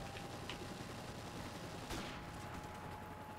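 Gunfire in Modern Warfare multiplayer on the map Bog, a faint, dense crackle of distant shots through steady background noise, with one sharper burst near the middle.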